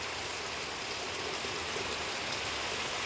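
Rain falls in a steady, dense hiss through the whole stretch, even and unbroken, with no voices over it.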